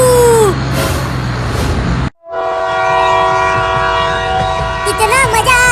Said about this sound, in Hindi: कितना मजा आ रहा है ट्रेन की सवारी करते हुए